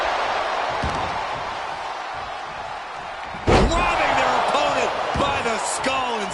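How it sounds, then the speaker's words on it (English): A wrestler slams an opponent onto the ring mat in a WWE video game, one heavy thud followed by a few lighter impacts over steady crowd noise, with voices talking throughout. "slamming him down."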